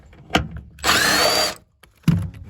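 A power tool removes the seatbelt mechanism bolt on a 1990-1997 Mazda MX-5 Miata: one close, loud whir lasting under a second, framed by sharp clicks and knocks.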